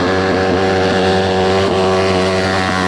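A 190cc engine on a shifter kart called the Yard Dart runs at top speed, a loud sustained buzzing drone with a steady pitch and slight periodic wavering, heard close and with no voices.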